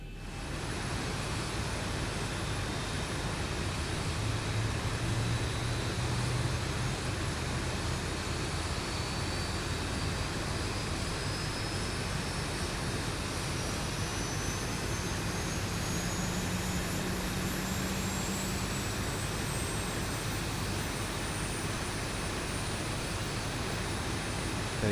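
Engine one of a Boeing 737 spooling up in the X-Plane 11 flight simulator: a steady, dense roar with a thin whine slowly rising in pitch over it, continuous and even throughout, with no voices.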